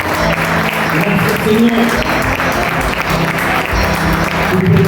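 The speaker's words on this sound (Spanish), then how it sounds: "¿Me puede dar un aplauso, cariño, al Señor?" A church congregation applauds with dense, sustained clapping while voices call out over it.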